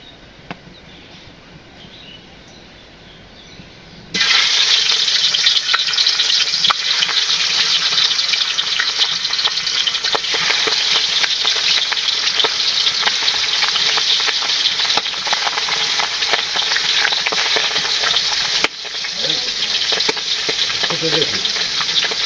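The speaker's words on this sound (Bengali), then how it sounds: "এখন হচ্ছে এই আলু ডাটা, এই দিয়ে পাবদা মাছ দিয়ে একটা ঝোল করব।" Pabda fish curry with potato stalks frying and being stirred in a pan, starting with a sudden loud sizzle after a quiet start and holding a dense, steady crackle with a brief dip near the end.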